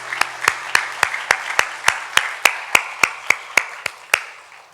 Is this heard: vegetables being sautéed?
no